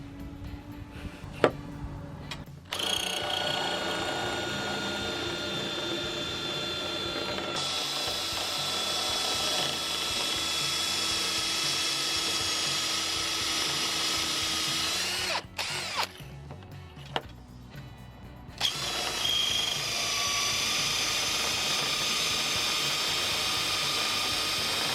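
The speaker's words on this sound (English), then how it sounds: "I'm drilling my hole, and it helps me keep it in a straight line." A power drill bores a 12mm hole into 1/2 inch copper pipe, its whining motor running in long steady stretches with brief stops and restarts, close and clear.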